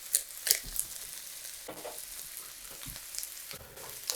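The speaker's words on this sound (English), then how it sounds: "Let this start to saute a bit, kind of reduce down, and get a little brown." Ingredients for chicken à la king sauté in a pan, a steady close sizzle and crackle with occasional scraping clicks of stirring, fairly quiet and with no one talking.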